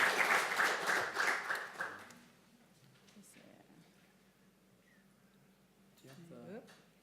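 Audience applause fills the opening two seconds as a speaker is introduced at a lean construction talk, fairly loud and dense, then fades into quiet room tone with faint movement and brief talk near the end.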